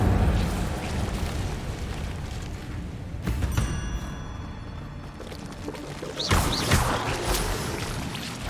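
An Incendio fire spell in Hogwarts Legacy erupts in whooshing, crackling bursts of flame, with a loud rush near the middle and another roaring flare toward the end over constant background noise.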